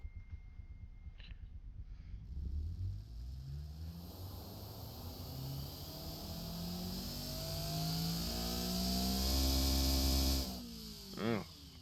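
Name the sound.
simulated 3.4 L 2JZ drift engine revving in video game Automation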